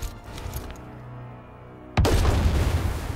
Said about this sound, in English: Artillery ready.